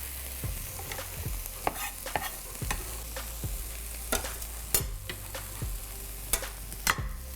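Mushrooms fry and sizzle in a pan for a Nepali-style mushroom curry, with a steady hiss under repeated sharp scrapes and knocks of a spoon stirring, fairly quiet and close, with no talking.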